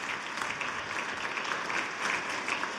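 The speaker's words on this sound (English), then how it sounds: "So give a round of applause for Nora." A conference audience at a firearm injury prevention event applauds steadily, a dense, even wash of many hands clapping without pause.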